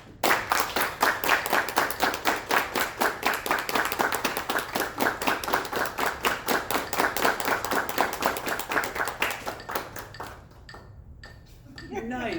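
A conference audience claps together in steady rhythm, fast and loud for about ten seconds, then the clapping breaks off and a few voices and a faint clap linger.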